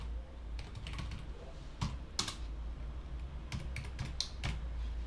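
Keys clatter on a computer keyboard as text is entered into a Google Sheets spreadsheet, a quiet close run of irregular taps with a few louder strokes and no voices.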